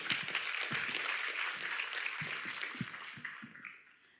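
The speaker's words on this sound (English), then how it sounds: "please give a round of applause to our prestigious event, BEFIC 2025 this morning" Audience applause at the opening of the BEFIC 2025 event, a broad patter of many hands at a distance that gradually thins and fades over about four seconds.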